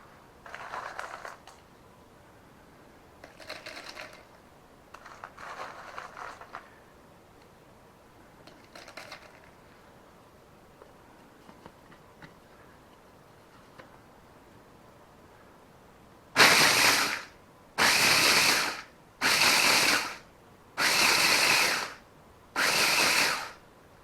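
A machine grinds cocoa beans for chocolate: several faint irregular grinding bursts at first, then five loud, harsh, evenly spaced bursts of about a second each, close by with no talking.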